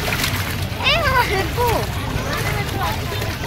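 Splashing and sloshing water in a public garden, with lively children's voices and squeals over a steady wash of water in the background.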